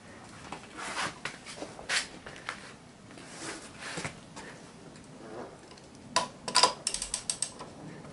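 A ratchet tightens the rear wheel axle nut on a Peugeot Citystar 125 scooter with the wheel on the ground, giving close clicking bursts with pauses between strokes and a quick clatter of ratcheting near the end.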